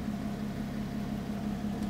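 Lotus 3-Eleven road version idling, a steady low pulsing exhaust burble, close and even, with no talk over it.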